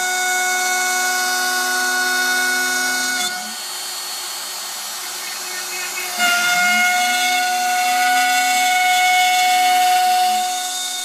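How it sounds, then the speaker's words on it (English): An X-Carve CNC machine mills the shape of a guitar headstock with a 1/4 inch end mill, giving a steady, loud, whining spindle drone broken by two short dips in load, with no talk. "After changing to a 1/4 inch end mill, the X-Carve milled the shape of the headstock."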